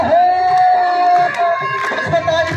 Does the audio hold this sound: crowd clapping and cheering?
yes